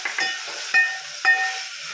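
Mutton curry being stirred in a pan gives a soft, steady sizzle, broken by a few sharp scrapes and clinks of the spoon against the metal.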